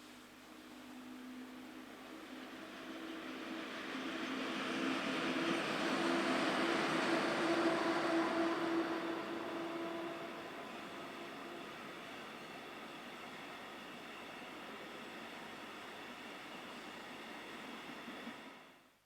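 Northbound train headed by locomotive 420-280 rumbles past with a steady roar that swells to a peak midway, accompanied by a sustained low engine tone, then eases off as the wagons roll by.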